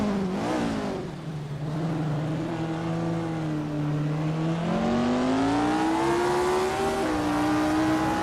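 1962 Porsche 804 race cars at the Korean Grand Prix track in a racing video game, a loud, close engine note rising and falling through gear changes with no talk.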